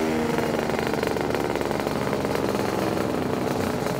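A Lambretta scooter fitted with a SIP Nordspeed exhaust accelerates, giving a close, loud, continuous two-stroke buzz with a rapid pulsing exhaust note that rises steadily and carries no speech.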